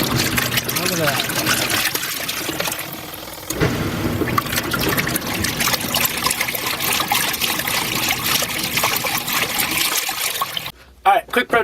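A small portable washing machine runs with water inside, a loud churning slosh and trickle with a low motor rumble underneath, then briefly quieting at the end.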